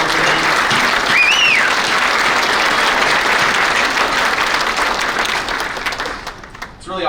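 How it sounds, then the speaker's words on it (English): Loud, sustained applause from a conference audience honoring the event's volunteers, a dense wash of clapping holding steady for several seconds before tapering off near the end, with a brief whoop or whistle early on. "don't we give a round of applause for everybody that made this possible?"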